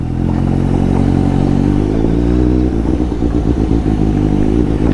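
A Suzuki GSX750 motorcycle engine roars loud and close, holding a steady drone before breaking into a rougher, pulsing note as it accelerates hard, with no voices.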